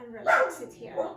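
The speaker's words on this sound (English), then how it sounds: "And that's my dog." A dog gives a short close bark or yip, with a faint whimper after it, under a calm spoken voice during a yin yoga session.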